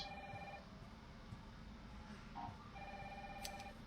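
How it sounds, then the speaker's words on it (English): A telephone rings in Resident Evil 3 Remake, repeated electronic trills sounding faintly over a low rumbling game ambience, with no voices. "Phone's ringing."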